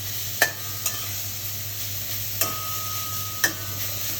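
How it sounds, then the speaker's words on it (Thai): A few sharp metallic clinks and scrapes of a utensil against a hot iron pan, spaced apart over a steady low hiss of shrimp and glass noodles stir-frying. "นี่เราใช้กระทะเหล็กอบกันเลยจ้า เสียงกระทะนี่แค่เสียงกระทะก็"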